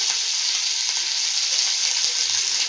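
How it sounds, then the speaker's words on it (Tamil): Mustard seeds, urad dal, curry leaves and dried chillies crackle in hot oil, a dense continuous sizzle held close and loud for a few seconds, with no voices. "அதோட காஞ்ச மிளகாய், இது எல்லாத்தையும் போட்டு நம்ம தாளித்து"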